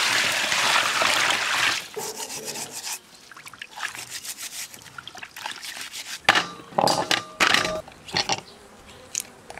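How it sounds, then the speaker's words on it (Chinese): Large raw oysters being washed in water by hand, with close, irregular bursts of scraping shell, rubbing and splashing broken by short pauses. "先把生蚝往进洗一下"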